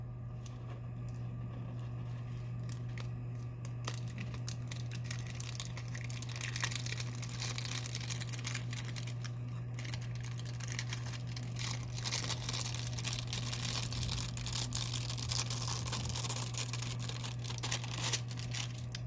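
Transfer tape is slowly peeled off a holographic vinyl mandala decal, giving a continuous close crackling and crinkling that runs for the whole stretch over a steady low hum, with no talking.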